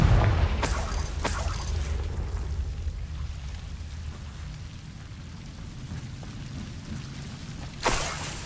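A Confringo blasting spell from Hogwarts Legacy goes off as a deep rumbling blast that fades slowly, and a second sharp crack follows near the end.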